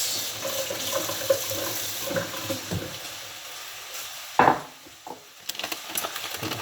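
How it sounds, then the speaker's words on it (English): Water splashes briefly into a pan of breakfast burrito filling midway through, set among light kitchen clatter and the hiss of a running tap. "So now we're gonna add a little splash of water to this."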